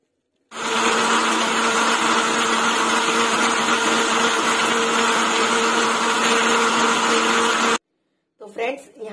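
A blender grinds dates, khoya and milk in one long, loud, steady whirring roar that stops abruptly, followed by a brief rustle.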